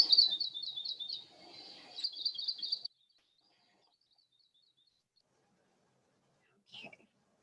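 A played recording of an endangered Hawaiian forest bird: a rapid series of clear, high chirping notes for about three seconds, then silence and one brief closing call.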